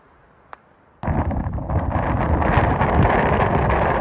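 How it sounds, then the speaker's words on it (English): After a brief quiet tick, strong wind on a mountaintop suddenly buffets the microphone, a loud continuous rumbling roar that persists to the end. "it's a little windy up here, so I apologize for the audio"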